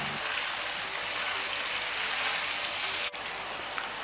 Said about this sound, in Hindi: तो इसको ऑयल में इतना भूनेंगे कि चिकन का कलर चेंज हो जाए।